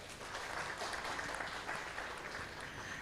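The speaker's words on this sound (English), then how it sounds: "Let's give a round of applause for our event today." Applause from an event audience, a dense steady patter of many hands clapping at once, sustained and fairly distant, with no talk over it.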